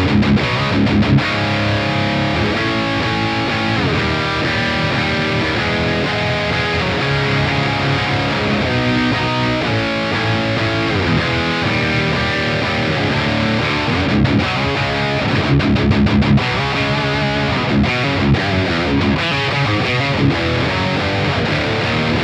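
A heavily overdriven electric guitar plays a dense, crunchy riff through a high-gain amp plugin with an overdrive in front, loud and continuous with thick, saturated chords, plus delay and reverb.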